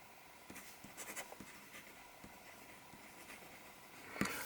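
A cheap medium-nib fountain pen scratches across paper in faint, intermittent strokes, quiet and close, with a slightly louder scrape near the end and no voices.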